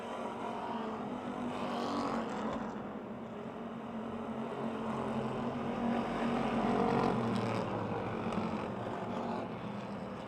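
Race cars circling the Motordrome Speedway track during a lap-by-lap battle for position, a steady loud engine roar that swells and recedes as the pack passes, with no talk.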